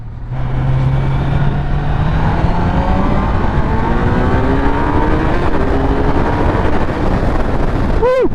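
A Kawasaki Z900 motorcycle cruising in fourth gear at about 5,000 RPM and 50 mph, a loud steady engine drone with rising pitch under heavy rushing wind noise throughout.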